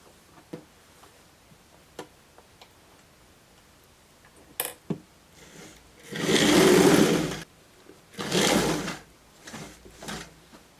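A domestic sewing machine stitches the fabric lining of a homemade bootie slipper in two short bursts of rapid whirring, preceded by scattered clicks and handling taps.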